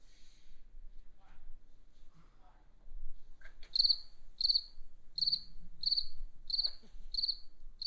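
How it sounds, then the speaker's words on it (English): Crickets chirp in a regular series of short, high pulses, fairly quiet, in an otherwise hushed empty arena. "Do you hear crickets?"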